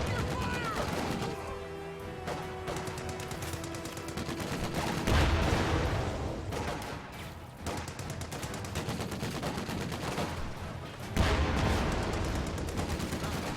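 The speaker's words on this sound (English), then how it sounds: "Sherman's taking shots at range" Tank gunfire from a Sherman in a World War II-style strategy video game rings out as heavy, sharp blasts, with the loudest near five and eleven seconds, over ongoing battle noise and a faint voice.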